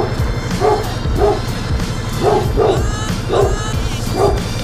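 A dog barks loudly and close by in a series of sharp, evenly spaced woofs and yips, heard alone without talking.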